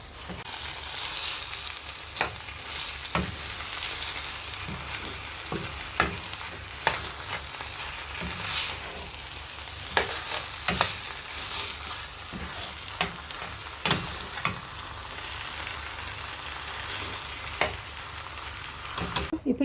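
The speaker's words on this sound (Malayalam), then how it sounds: "ഈ ചിക്കൻ്റെ ഒന്ന് കളറൊക്കെ ഒന്ന് മാറി വരുന്നത് വരെ നമ്മൾ ഇളക്കി കൊടുക്കണം" Marinated chicken sizzles in a pan for a chicken curry with coriander leaves and green chillies, a steady frying hiss broken by frequent scraping stirs of a spoon, close and continuous with no talking.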